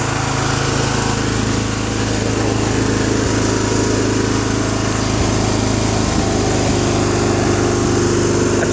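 A John Deere 210 lawn tractor with a 16 HP Kohler K341 engine runs close by, a loud, steady single-cylinder drone that holds unbroken throughout with no talking.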